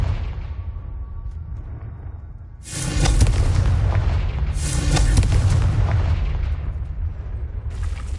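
Confringo spell blasts in Hogwarts Legacy, a series of loud, deep booming explosions. Each burst crashes in with a rushing roar and rumbling tail, three in quick succession.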